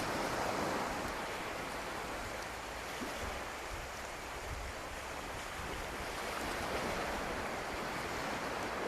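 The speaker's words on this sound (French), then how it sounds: "Laissez entrer le bruit des vagues en vous." Ocean waves wash steadily onto a beach as a continuous soft, broadband surf rush, fairly distant and even in level with gentle swells, no voices present.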